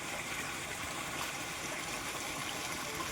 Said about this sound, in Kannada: ಬ್ಯಾಕ್ಗ್ರೌಂಡಲ್ಲಿ ಸೌಂಡ್ ಕೇಳ್ತಾ ಇರ್ಬೋದು ನೀರು ಹರಿತಾ ಇರೋದು ಯಾವಾಗಲೂ ಇದೇ ಥರ ನೀರು ಹರಿಯುತ್ತೆ